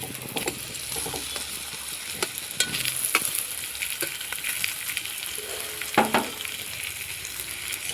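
Boiled potatoes fry with spices in a pan, a continuous crackling sizzle with frequent clacks and scrapes of a spoon stirring, close and fairly even throughout.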